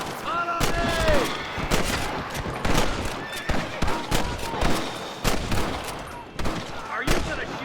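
Rapid gunfire from a Western shootout with rustlers in Red Dead Redemption: sharp, loud shots crack in quick irregular bursts throughout, with voices calling out between them.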